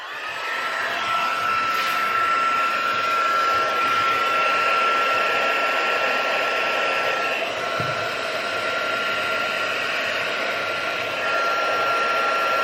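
A heat embossing gun blows hot air with a continuous, steady whirring hiss close to the microphone, held at an even level throughout with a faint high whine running through it.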